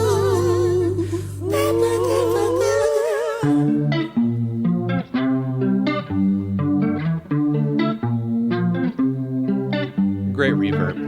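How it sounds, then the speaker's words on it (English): Heavy reverb on a song: a drawn-out, echoing sung phrase over a low drone gives way to a rhythmic plucked pattern, loud and close, with the washed-out trails hanging behind each note. "Great reverb."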